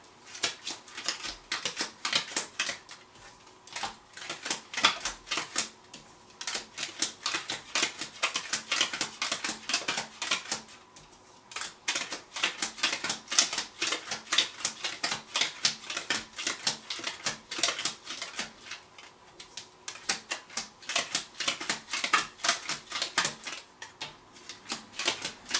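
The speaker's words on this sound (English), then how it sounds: "I shuffle the cards three times" Steady, rapid riffling and tapping of tarot cards being shuffled up close, a dense clicking patter in several long runs with short pauses between.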